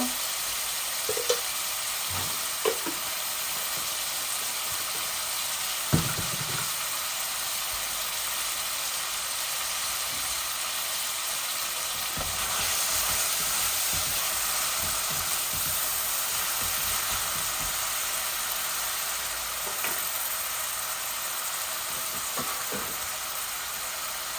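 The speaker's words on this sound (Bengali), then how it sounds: "আমার এই মশলাগুলা ভাজা হয়ে যাক" Chicken breast and spices fry in a pan with a soft, steady sizzle that runs the whole time, broken by a few faint clicks and taps of a utensil. No one speaks.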